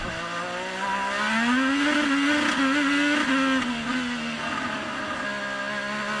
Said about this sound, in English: I just love to listen to the engines here